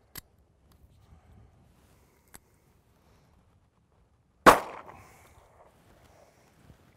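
A single sharp revolver shot cracks out loud and close, followed by a short decaying echo, with a couple of faint clicks before it amid near silence.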